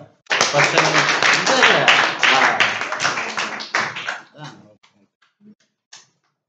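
Students in a classroom break into a burst of dense, fast clapping for about four seconds before it thins into a few scattered claps and fades.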